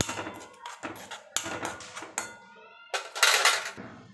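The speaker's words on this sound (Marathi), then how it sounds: "आता मिश्रण छान व्यवस्थित एकजीव करून घेऊया आपण।" A spoon clinks and scrapes against a pot while a turmeric-spiced mixture for Malvani jaggery poha is stirred together, in several short bursts separated by brief pauses, fairly close with no voices.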